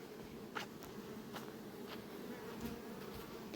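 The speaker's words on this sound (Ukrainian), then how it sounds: "Пасіка гуде." Honey bees swarm an apiary at five in the evening, a steady, faint, even hum with a few brief ticks as insects pass close.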